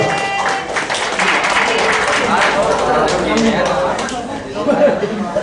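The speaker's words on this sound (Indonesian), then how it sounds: "Tepuk tangan dulu" An audience at a business seminar and talk show breaks into loud, dense applause mixed with crowd chatter, and a voice speaks over it.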